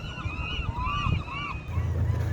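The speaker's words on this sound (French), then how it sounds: "Il n'y a que les mouettes pour saluer notre départ." Seagulls call several times over a sailing harbor in the San Juan Islands on a windy spring morning, with faint wind rumble underneath.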